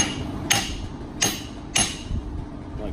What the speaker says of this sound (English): give the ears a little whack